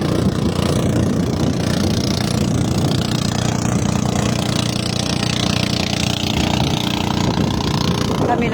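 A boat engine drones continuously and loudly close by at Calatagan, Batangas, a steady rumbling motor with water and wind noise, voices faintly mixed underneath.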